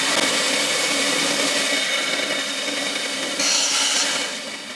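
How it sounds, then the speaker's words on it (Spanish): A band saw cuts through wood to shape a tenon for a traditional wooden bench, giving a loud, continuous whirring buzz that roughens as the blade bites and fades slightly toward the end, with no voices. "Esto ahorita lo vamos a hacer en esta operación, la vamos a hacer en la sierra cinta"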